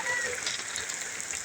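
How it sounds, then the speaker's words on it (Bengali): Heavy rain pours down steadily in a dense, hissing wash with no break, heard outdoors at a moderate distance. "কি হারে বৃষ্টি দেখেন"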